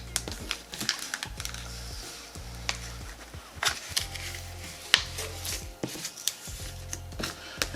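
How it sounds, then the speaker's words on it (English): Intermittent clicking from a heat press regulating its temperature in a craft workspace, sharp irregular clicks alongside a steady low hum, fairly quiet and close. "if you hear a clicking noise in the background, my heat press is on and regulating its temperature"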